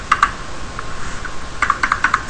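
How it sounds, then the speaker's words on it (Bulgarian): Keys on a computer keyboard being struck to type a command after entering a password, heard as an uneven run of crisp, close clicks with a short pause midway. "натискаме клавиш Enter и пишем"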